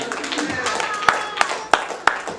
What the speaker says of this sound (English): You ought to clap your hands and give God some praise.